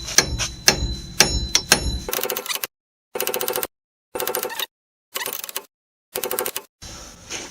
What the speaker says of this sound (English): careful when you're hitting this, you need a good punch.